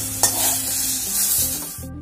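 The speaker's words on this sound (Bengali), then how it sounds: "দেখুন বেগুনগুলো অল্প তেলে ভেজে তুলে নিচ্ছি।" Close, loud sizzling of eggplant pieces frying in shallow oil, with occasional stirring scrapes, then the sizzle cuts off abruptly.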